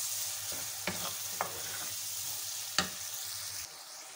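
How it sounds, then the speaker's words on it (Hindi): Ground spices such as red chilli, turmeric and salt roast in a pan for an arvi curry, a low steady sizzle punctuated by a few sharp scrapes of a stirring spoon. "मसालों को हम 2 से 3 मिनट भूनेंगे।"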